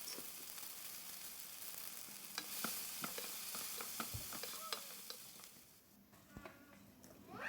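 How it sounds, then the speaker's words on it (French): Crushed garlic cloves frying in a pan, with a steady soft sizzle broken by occasional clicks and scrapes of stirring, close and moderately quiet, with no talking. "Je mets également 2 à 3 gousses d'ail écrasées et je laisse revenir pendant 10 minutes."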